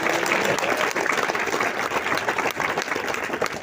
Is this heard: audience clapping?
yes